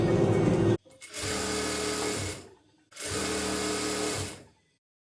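Sewing machine stitching a dress, running in three loud sustained bursts of about one to one and a half seconds each, separated by short pauses, with no talk.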